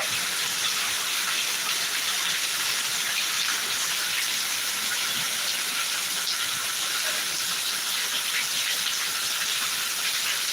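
Heavy summer rain pours down in a dense, unbroken hiss, steady and loud throughout, with no voices.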